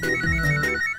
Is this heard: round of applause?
no